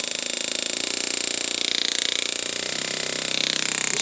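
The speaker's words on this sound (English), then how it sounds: "I'll switch the engraver on" A DIY engraving machine runs a high-speed steel engraver against brass, giving a fast, rapidly pulsing mechanical buzz with a shifting whine above it. It sounds close and moderately loud, with no voices.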